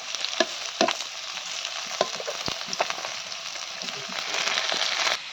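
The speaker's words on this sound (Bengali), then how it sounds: "সবজিটা একটু ভেজে নিচ্ছি আলু আর হলো পটল" Potatoes and pointed gourd fry in a pan with a loud, close sizzle, broken by sharp spatula scrapes and stirring clacks that come at irregular intervals.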